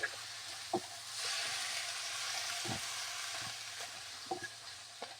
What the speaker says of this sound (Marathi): घेवड्याला मस्त फोडणीमध्ये परतून घ्यायचा आहे।